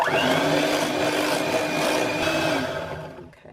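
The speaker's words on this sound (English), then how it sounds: "we'll just whisk that in for flavour" A whisk stirs stevia and vanilla into a dessert mixture in a bowl, a continuous close scraping swish that fades out at the end, with no voice.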